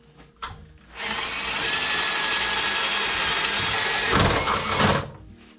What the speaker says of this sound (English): So I'm going to drill through here.